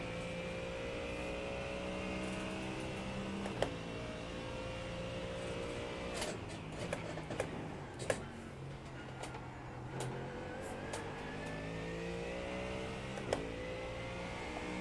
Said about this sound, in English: I guess we've got passed by the entire LMP2 field.